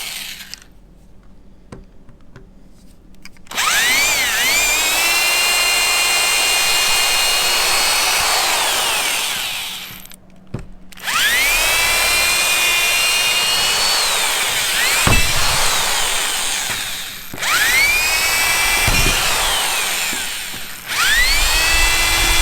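A power tool mounting a cleat on a hunting kayak, whirring in several long bursts with sweeping pitch and brief pauses between them, loud and close with no talking.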